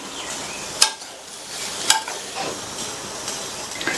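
A spoon stirs brinjal masala curry with chopped coriander leaves in a pan off the heat, giving two sharp metallic clinks against the pan over a soft, continuous hiss.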